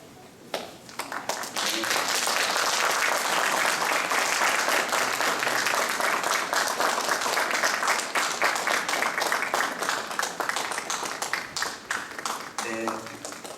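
An audience at a church seminar breaks into sustained applause, dense clapping that swells, holds steady for several seconds and tapers off, with a voice briefly heard at the end.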